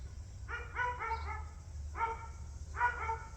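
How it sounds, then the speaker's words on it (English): A dog tied up outside barks in three quick clusters of yappy barks, somewhat distant over a low steady background hum. "I hate people that tie their dogs up outside and just let them bark."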